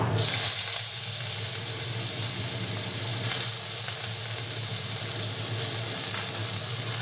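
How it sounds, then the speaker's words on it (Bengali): Thinly sliced medium onion hitting hot oil for a pointed gourd mash, a steady bright sizzle that runs loud and unbroken from start to finish with no talking over it. "এবার আমি এর মধ্যে দিয়ে দিব একটা মিডিয়াম সাইজের পেঁয়াজ"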